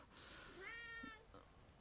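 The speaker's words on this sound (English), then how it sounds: "oh, cat's back" A cat meows once, clear and fairly close, over a quiet background with faint room noise.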